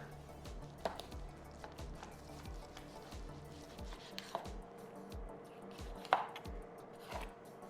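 A knife squares up the fat edge of a beef steak, giving quiet, irregular cutting taps and slicing scrapes on a board, close and soft.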